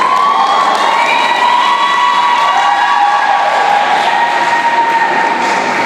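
A large crowd at a South African science olympiad awards ceremony cheers and applauds, a dense, loud, unbroken wall of clapping and shouting with high whoops riding over it.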